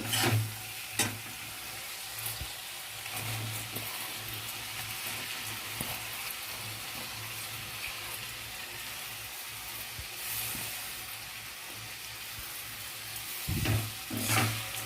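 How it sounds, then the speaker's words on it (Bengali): Soaked gobindobhog rice is stirred and fried in a pan for a katla fish-head murighonto, giving a steady soft hiss throughout with a few scraping spoon strokes near the start and end. "চালটা দিয়েছি, এবার ভালো করে নেড়ে চালটা একটু ভাজা ভাজা করে নেব"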